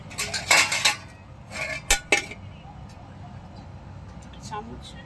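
Metal spoon clinks and scrapes against a pan while cooked fish is served, a burst of rapid clatter followed by a few sharp knocks, close and fairly loud, then fading to quiet rustling.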